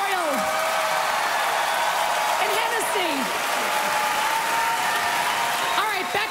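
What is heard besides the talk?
audience clapping at comedy show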